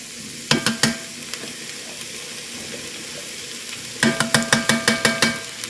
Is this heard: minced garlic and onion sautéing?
yes